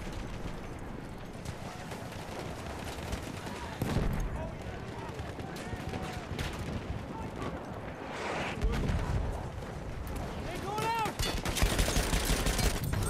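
Constant Battlefield 1 combat fills the stretch with dense rapid gunfire, rolling bursts and occasional heavier blasts. A voice talks over the din at times.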